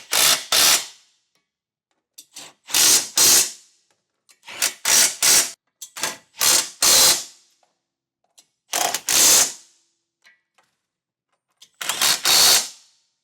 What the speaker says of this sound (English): And then we'll go through and tighten each one down with a 13mm socket.